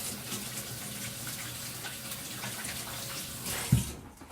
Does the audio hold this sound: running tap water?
yes